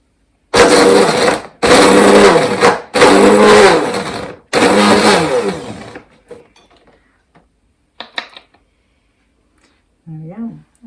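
An electric chopper minces a whole head of peeled garlic in short, loud whirring bursts, four pulses in a row, then quieter handling clatter and a brief voice afterward.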